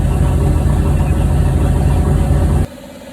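A turbocharged Chevrolet Silverado street truck with an SBE 4.8 V8 and a 7875 turbo runs on a chassis dyno, giving a loud, dense, steady engine roar that cuts off abruptly near the end, leaving a quieter rumble.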